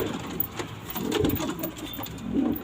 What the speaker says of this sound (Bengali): পায়রাগুলো সব বাইরে বেরিয়ে গেছে